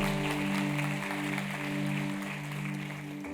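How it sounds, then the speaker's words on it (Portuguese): A church congregation claps in a steady, fairly soft patter, mixed with sustained keyboard music. "Aplauda o Senhor"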